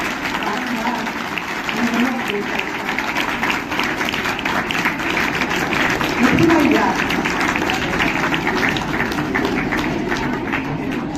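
A crowd applauds steadily and fairly loudly for several seconds, with some voices mixed in, during an honouring at a school maths and science event.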